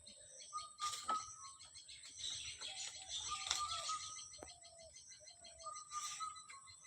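An Indian cuckoo calls from a distance in a rural setting, repeating clear whistled phrases over faint chirping birds and insects, with no speech.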